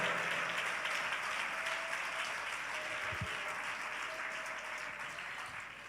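A church congregation clapping hands together during worship, a continuous, even wash of clapping that fades slightly toward the end.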